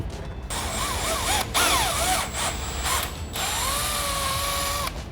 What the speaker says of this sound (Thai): เจาะแม่งตรงนี้เลย